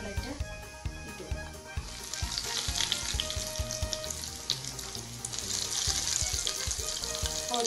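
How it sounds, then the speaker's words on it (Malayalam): Chicken cutlets are laid one by one into hot oil over a medium-low flame, and a bright, crackling sizzle builds up and stays steady and close. A faint voice is heard in the background. "ഒരു മൂന്ന് നാലെണ്ണം ഇട്ട് വേണം നമുക്ക് ഫ്രൈ ചെയ്തെടുക്കാം"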